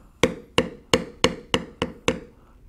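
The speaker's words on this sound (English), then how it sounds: "We will begin the beveling with a number B702 checkered beveler." A metal B702 checkered beveler struck by a mallet while beveling tooled leather, seven sharp, evenly spaced knocks about a third of a second apart, close and clear with no talk.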